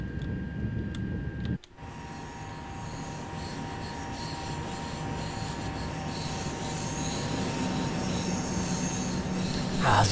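A double-decker TGV Duplex train in Train Sim World 2 rolls slowly into the terminus at Marseille, its wheels squealing and grinding steadily as it brakes, with the loud rail noise building toward the stop.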